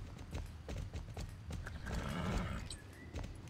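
Horse hooves clip-clop steadily as a horse is ridden in a video game, with a neigh partway through, all fairly quiet and with no talking.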